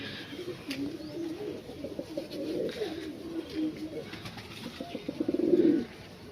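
A newly acquired pair of pet pigeons coo near and clearly, soft repeated calls building to a louder cooing burst at the end, with faint background noise.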